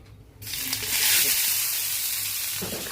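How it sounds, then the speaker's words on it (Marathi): Onion sizzles loudly on a hot iron tawa for an egg kachori breakfast, a steady bright hiss that bursts in after a quiet moment and holds. "इथे तवा ठेवला आहे तापायला आता ह्याच्यात मी कांदा शिजून घेते"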